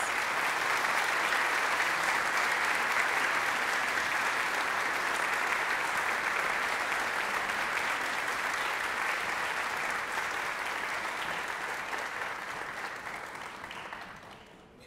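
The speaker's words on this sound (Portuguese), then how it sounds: "eu queria, por favor, pedir que vocês aplaudissem o júri" A ceremony audience gives the competition jury a long, even round of applause that stays full and close before thinning and fading out near the end.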